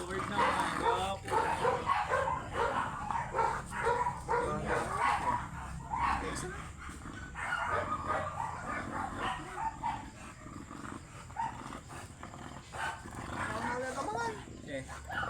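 Pocket exotic American bully dogs bark, yip and whimper at close range while people talk over them almost continuously throughout.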